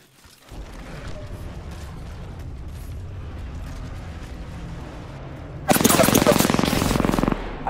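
Rapid automatic gunfire rattles through an Apex Legends match, a continuous stream of shots that swells into a much louder, denser barrage near the end.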